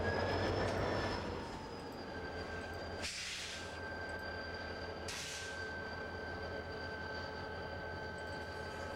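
Helper locomotives on a coal train roll past at a steady distance, giving a low continuous rumble with faint wheel squeal and two brief hissing bursts; no speech.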